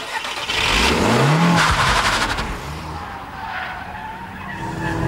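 A turbocharged car engine revs hard and accelerates close by, its pitch climbing and falling, with tire squeal mixed in; loud and continuous, no talking.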